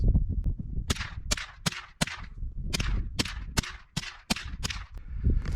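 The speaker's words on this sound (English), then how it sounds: "We got 10 rounds of the 22 Aguila or Aguila at 50 yards." Ten sharp .22 LR rifle shots from Aguila bulk-pack ammunition fired at a 50-yard target, cracking out one by one at an irregular, unhurried pace, each a crisp close report.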